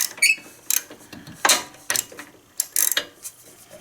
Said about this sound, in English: I'm going to use a 13/16 inch spark plug socket in a small extension to remove it.